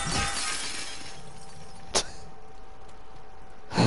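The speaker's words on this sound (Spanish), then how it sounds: "Me va a gustar reventar los vidrios." Glass windows smashed in the video game The Last of Us Part II: a sharp crash against a steady ambient wash, then a second, heavier shatter a couple of seconds later.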